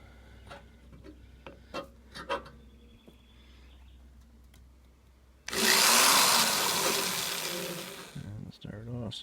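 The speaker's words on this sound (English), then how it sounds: "And you just take a power drill." Scattered taps and clicks, then a loud continuous whirring power drill cuts in and runs steadily for several seconds, close by, drilling into a tire sidewall with dull bits.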